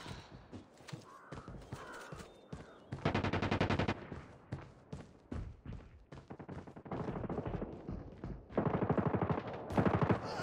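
Gunfire in the Call of Duty Mobile video game comes as loud bursts of automatic shots and repeated sharp cracks, separated by short gaps and heaviest near the middle and the end.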